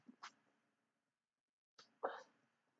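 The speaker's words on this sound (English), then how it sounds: "And I'm about to sneeze." A single sneeze bursts out near the microphone after a quiet pause, preceded by a short sharp intake of breath, with another brief breath sound at the very start.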